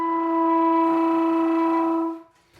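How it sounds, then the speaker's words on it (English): A saxophone holds one loud, steady note with flutter tonguing and a glottal growl for about two seconds, then cuts off into quiet. "That's my kind of typically preferred method of flutter tonguing."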